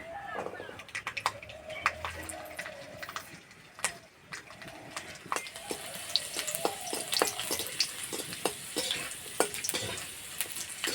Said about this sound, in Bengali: রসুনটা একটু ভেজে নিয়েছি।